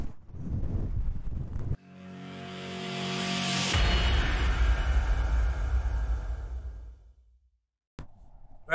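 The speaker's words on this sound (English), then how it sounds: "the wind's so crazy, it's actually shaking this gazebo thing" Strong high wind buffets a microphone outdoors beside a shaking gazebo at an amateur radio activation, a loud roaring rush that surges and fades before cutting out, with a brief gust at the end.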